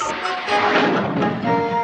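A rocket launching sound effect bursts out as a loud whooshing roar that swells and rushes for under two seconds, heard alone with no talking.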